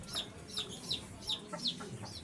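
Young chicks raised about two to three months cheep repeatedly in short high peeps, roughly every half second, close by over a low farmyard hum.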